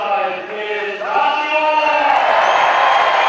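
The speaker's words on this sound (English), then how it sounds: "What sort of a cheer are we going to get for this rider?" Speedway crowd at a stadium cheering and shouting for a rider, voices first rising in sustained calls and then swelling into a loud, continuous roar of cheering.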